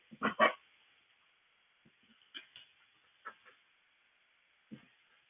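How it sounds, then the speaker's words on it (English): A pair of sharp barks from dogs in an evening scene up front, then scattered, fainter yips and barks over the next few seconds, sounding somewhat distant and thin. "Man, the dogs are making all kinds of noise."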